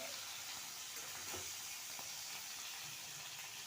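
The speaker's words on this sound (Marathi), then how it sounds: "या प्रकारे आपल्याला भेंडी परतून घ्यायची आहे" Okra (bhindi) sautéed in a wok gives a steady, even sizzle and hiss throughout, with a few faint stirring touches and no voices.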